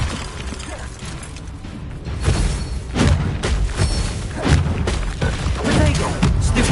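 Confringo explosive spell blasts in Hogwarts Legacy combat, a run of heavy thuds and crashing bursts with crackling debris over a loud, busy battle din.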